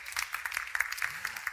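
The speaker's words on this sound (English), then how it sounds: "I would like to ask everyone to give all our speakers a huge round of applause today" An audience at a social-innovation pitch summit claps for the speakers, a fairly sparse, moderately quiet patter of individual claps with a faint voice briefly underneath.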